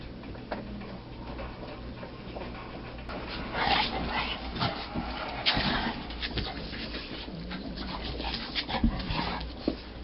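Two eight-week-old Bullmastiff puppies whimper and pant close by, with soft intermittent whines and snuffles over a steady ticking clock in a quiet room.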